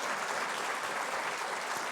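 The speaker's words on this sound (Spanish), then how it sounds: "querida magistrada Armida, que le diéramos un fuerte aplauso por su valiosa participación." Sustained applause from a conference audience honoring a magistrate after her talk on jurisprudence, a steady dense clapping that fills the whole moment without voices.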